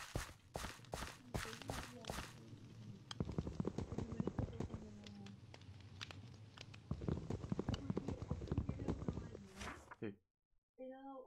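Horse hooves clip-clop in the video game Minecraft in quick, close, distinct beats, then a steadier run of footfalls under a voice speaking in Spanish.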